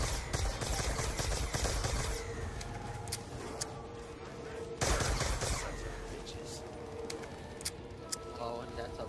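Rapid gunfire bursts from a Call of Duty Zombies match on the Origins map, dense and loud throughout with sharp peaks, mixed with game effects and players talking over it.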